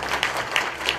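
Applause for the male and female hosts at a company's quarterly meeting and annual awards ceremony, a steady wash of clapping from an indoor audience with a few louder swells, no talk over it.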